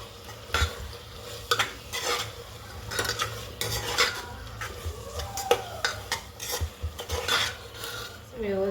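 Marinated prawns stirred into fried onion masala in a pan, with repeated scraping spoon strokes and clinks over a soft continuous sizzle, close and fairly quiet.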